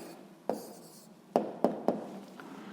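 Writing down an answer for a math exercise, a handful of distinct taps and strokes on a surface, close and clear, irregularly spaced, with no talking.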